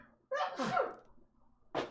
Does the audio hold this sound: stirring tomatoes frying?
no